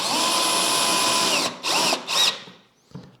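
A cordless drill whirs steadily at close range for over a second, then gives two short bursts of spinning before winding down into quiet.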